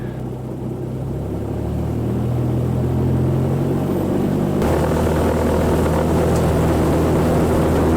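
A Cessna light aircraft powers up for takeoff on the runway, its engine drone building into a loud, steady roar with a sudden jump in intensity partway through, heard close from inside.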